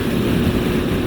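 Low, rumbling exhaust growl from a Honda Hornet 900 motorcycle heard close to the pipes, a dense steady drone with no break.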